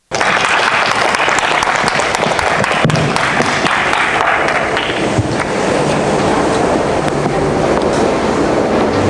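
A seminar audience breaks into loud, sustained applause to welcome a speaker to the stage, dense clapping that fills the room continuously with no talk over it.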